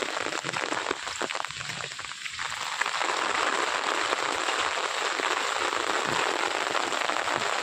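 Heavy rain falls on farm fields in Banaskantha, a loud, unbroken wash of hiss that swells slightly and holds steady, with no voices.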